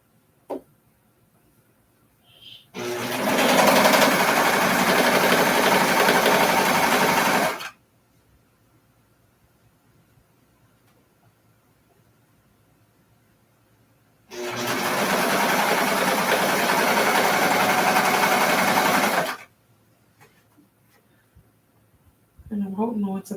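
Two runs of a sewing machine stitching fabric pieces together, each a loud, even whir lasting about five seconds, separated by a long quiet pause with light handling noises.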